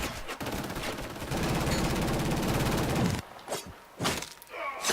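Rapid automatic gunfire from the video game Killzone forms a dense, loud burst lasting about three seconds, followed by a few separate heavy shots and impacts.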